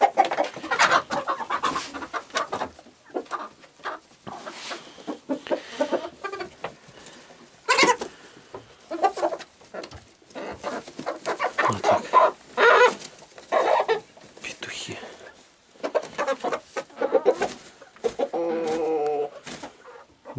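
Chickens cluck and chatter close by in scattered bursts, with soft scratching and rustling in damp bedding between the calls.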